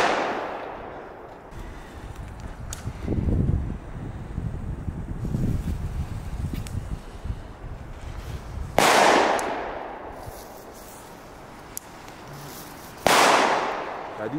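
Loud Belgian firecrackers with gypsum filling set off outdoors: two sharp, close bangs ring out, preceded by rumbling crackle and steady wind noise on the microphone.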